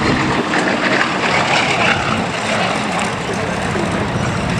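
Steady, muffled drone of an aircraft's Mercury radial engines at an airshow, a continuous low rumble with a broad roar on top, close and fairly loud throughout.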